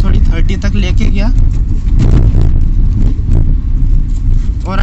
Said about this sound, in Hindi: ये मैंने गाड़ी की स्पीड थोड़ी 30 तक लेके गया